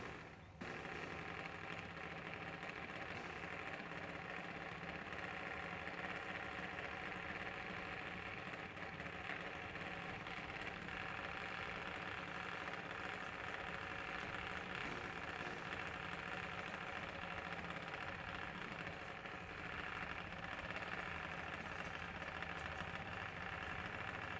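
Junior dragster engines idle at a no-prep drag strip, a continuous low, rough drone that stays even and fairly distant throughout, with no voices over it.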